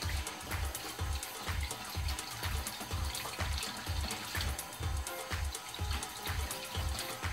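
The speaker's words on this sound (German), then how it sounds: "So, als erstes werden die Dinger gewaschen." Cold tap water runs steadily while kiwis are washed in a kitchen sink, a close, continuous splashing stream with rhythmic low thumps as the fruit is turned under the flow.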